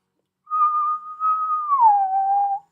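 A person whistles a steady clear tone that then bends smoothly down to a lower note, imitating a harmonica bend; a single sustained whistle, close and clean against silence.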